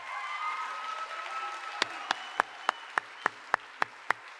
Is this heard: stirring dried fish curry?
no